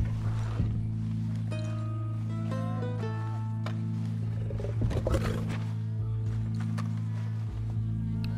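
A lion roars in the Red Dead Redemption 2 video game, a deep sustained rumbling growl that swells loudly near the five-second mark, set over a steady low game background hum with no talk.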